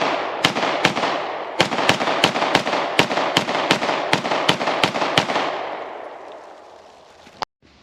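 Rapid, evenly spaced gunshots from a Walther PDP-LE pistol at a shooting range, about fifteen loud cracks fired in quick succession over five seconds, then a fading ring of range noise.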